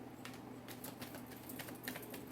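Tarot cards being shuffled, soft quick riffling patters and light taps close by, faint and continuous over a low room hum.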